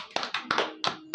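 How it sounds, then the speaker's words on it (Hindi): A few scattered handclaps from an audience cheering a barefoot runner who won gold, sounding as short, separate claps about every quarter second rather than a full roar. "जोरदार ताली आप उसके लिए बजा सकते हो"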